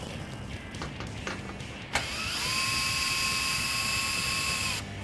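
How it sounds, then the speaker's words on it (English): A power driver with an 8mm socket backs mounting screws out of a 2018 Jeep Wrangler JL, a few faint clicks and handling sounds, then a sharp start and a steady high whine that runs for a few seconds before stopping. "So our 8mm socket, go ahead. And these 2 mounting screws out of the way here."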